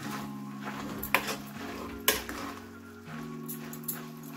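A spoon stirs curry in a pan, leaving a few sharp metallic scrapes and knocks against a low, steady background hum.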